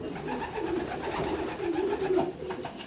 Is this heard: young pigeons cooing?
yes